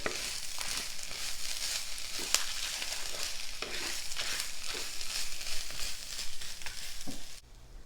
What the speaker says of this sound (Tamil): அரை மூடி துருவிய தேங்காய், கோகனட். இப்போ இதை போட்டு நல்லா ட்ரை ரோஸ்ட் பண்ணிடலாம்